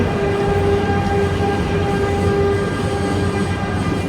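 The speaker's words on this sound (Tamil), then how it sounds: "இந்த ஒரு ட்ரெயின் ஒன்று வருது" A Swiss train on the Zürich to Bellinzona route arrives, rolling steadily nearby with a continuous rumble and sustained tonal whine, holding at an even loudness throughout.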